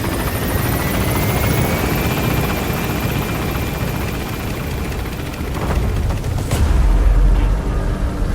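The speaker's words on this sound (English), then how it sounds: "Get on the chopper." A helicopter lifts off in the Metal Gear Solid V video game, its loud rotor roar and whine rising steadily, with a few sharp booms near the end.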